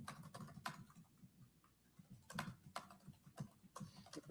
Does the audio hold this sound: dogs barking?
no